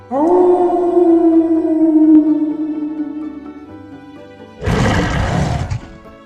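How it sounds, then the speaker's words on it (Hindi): A fierce wolf in an animated story lets out a long, drawn-out tonal roar that fades away, followed by a harsher, noisy growling burst. Both are loud and close, with no speech. "एक असली और खूंखार भेड़िया जंगल में घुस आया था।"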